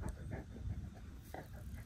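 A puppy whimpering and panting close by at low volume, short breathy pants mixed with soft whines, outdoors in a garden.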